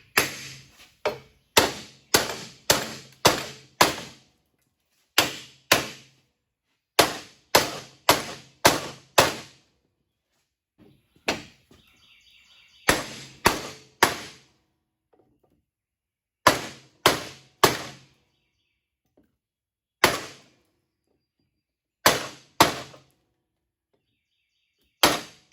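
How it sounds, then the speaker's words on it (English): Metal lawn mower deck being hammered back into shape during a welding repair: loud, sharp metallic blows in quick bursts of three to six strikes, separated by short pauses and a brief spell of scraping. "what we're going to do is just take and hammer this piece back down"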